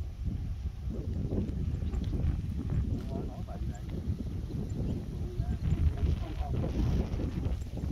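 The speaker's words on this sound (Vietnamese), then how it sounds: "Gió quá trời gió rồi." Strong wind outdoors in the Vietnamese countryside at a fishing spot buffets the microphone, producing steady low rumbling gusts that persist throughout, with talk mixed in.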